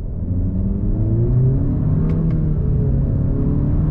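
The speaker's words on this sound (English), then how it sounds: "let's go on throttle from a dead stop" A 2021 Honda Accord Special Edition with a turbocharged engine pulls away on throttle from a dead stop, giving a steady, loud engine rumble and rising drone heard from inside the cabin, with no talk.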